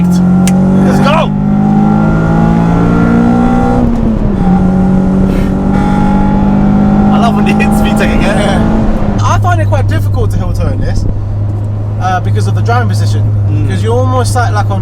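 A Honda Civic Type-R EP3 revving hard through its VTEC range, the engine note rising steeply through a gear, dropping at a shift, then climbing again. It sounds loud and close from inside the car, with people talking over it.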